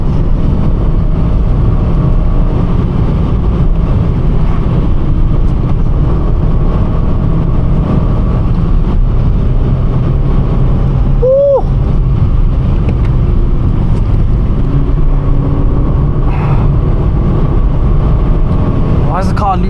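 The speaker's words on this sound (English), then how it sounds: "Why is the car losing power?" A Ford car labours uphill on a country lane, its engine droning steadily and losing power, with constant wind and road noise filling the cabin and a brief squeal partway through.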